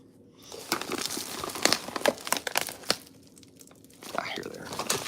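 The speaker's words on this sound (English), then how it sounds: "Sorry for the crinkling, guys." Packaging crinkles and rustles up close in quick, uneven bursts while someone digs through it looking for seeds, fairly quiet overall with short pauses between handfuls.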